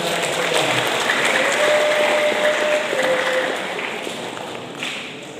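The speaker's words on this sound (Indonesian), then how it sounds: "Kita beri tepuk tangan yang meriah." Applause at a teacher's farewell gathering, a broad, loud wash of many hands clapping together in a large room, with a faint tone audible partway through, easing slightly toward the end.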